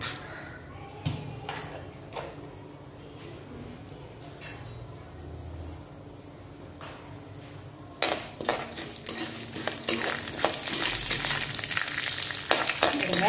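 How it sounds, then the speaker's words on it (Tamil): Cumin, urad dal, chana dal and mustard seeds fry in hot ghee, a steady close crackling sizzle with occasional spoon clinks, growing louder and busier toward the end. "இந்த நெய் காஞ்சி இது பொரிய ஆரம்பிச்சிட்டோம்"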